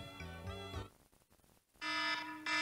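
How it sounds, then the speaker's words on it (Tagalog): A classic alarm clock rings in loud, steady buzzing bursts, breaks off into near silence for about a second, then starts ringing again just as loudly. "Ito yung mga classic alarm mo."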